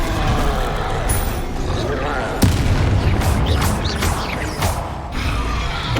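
Confringo explosive spell blasts in Hogwarts Legacy, booming impacts and crashing debris amid a loud combat rumble, with one sharp blast standing out and a voice speaking over it.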